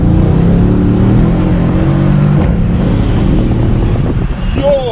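Mercedes-AMG CLS 63 sedan accelerating hard, heard from inside the cabin: a loud, deep engine roar rising in pitch with wind and road rumble, then easing off near the end.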